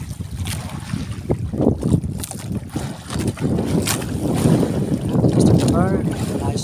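A fishing boat heading out on the sea near Simara Island, Romblon, during a jigging tournament; engine drone and water splash with strong wind buffeting the microphone, some voices faintly underneath.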